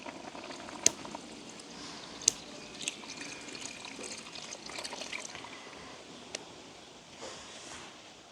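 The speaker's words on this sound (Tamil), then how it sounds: "நாங்கள் முதலாந்திரமாக புளிஞ்செடுத்த பாலை வந்து விடுவோம்" First-pressed coconut milk poured into a simmering fish curry in a village kitchen, a soft continuous liquid pour and bubbling with a few sharp utensil clinks, fairly quiet, no talking.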